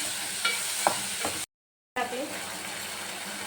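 Onion-coconut masala with spices frying in a pan as it is stirred, giving a low sizzle with a few scraping strokes, broken by a short silent cut before the sizzle resumes.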